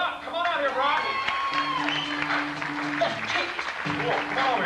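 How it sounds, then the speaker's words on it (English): Studio show audience applause with cheering and a few whoops, fairly dense but mixed with voices, music-like tones and movement, sustained through the clip. "A nice round of applause for Brock."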